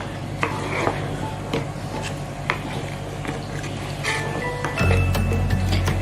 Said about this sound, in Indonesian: Kita aduk terus ya masaknya.